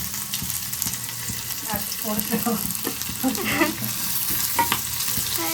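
Sambar tempering with curry leaves and asafoetida fries in oil, a close, lively sizzle with popping crackles and bursts of spattering that rise toward the middle, no speech.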